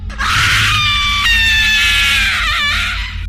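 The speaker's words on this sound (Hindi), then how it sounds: "अचानक उस झोपड़ी के अंदर से एक चीख सुनाई दिया।" A single loud, drawn-out scream rings from inside a hut in a horror tale, piercing and sustained for about three seconds before wavering and trailing off, heard alone and close.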